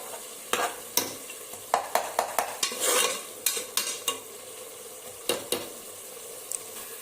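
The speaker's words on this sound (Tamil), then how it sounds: "அதில் எல்லாம் ஸ்பைசஸ், தக்காளி, வெங்காயம் அது எல்லாமே நான் சேர்த்துருக்குறேன். ஸோ இது நல்லா வதங்கி பச்சை வாசம் போட கட்டி நம்ம நல்லா வதக்கி எண்ணெய் பிரிஞ்சு கட்டி வதக்கணும்" Spices, tomato and onion sautéing in oil for veg biryani, a spatula scraping and tapping the pan in repeated sharp strokes over a soft continuous sizzle, close and fairly loud.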